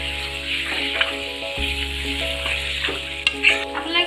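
Chicken curry cooks in a pan, sizzling steadily while a spoon stirs through it with occasional scraping clinks and bumps, close and alone without any talk.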